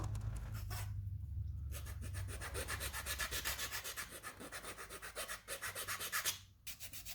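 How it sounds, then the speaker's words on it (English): Rhythmic rasping strokes of sanding and filing on wood, fast back-and-forth scrapes close up, with a couple of brief pauses. "with some cleanup, some sanding, and some file work, we're going to be good to go."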